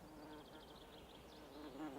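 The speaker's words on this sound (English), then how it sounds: "These bees are taking pollen from Devil's Bit scabious." Faint buzzing of bees foraging for pollen on Devil's Bit scabious flowers in wet boggy ground in Cornwall, a soft wavering hum under quiet outdoor ambience.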